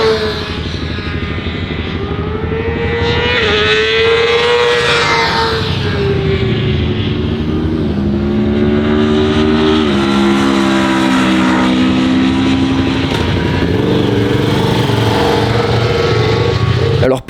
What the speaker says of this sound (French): Ludo, lui, enchaîne les tours et découvre de mieux en mieux cette petite Kawasaki